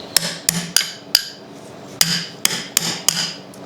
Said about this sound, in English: I use the butt end of a screwdriver so I don't damage it, and then just basically pry it out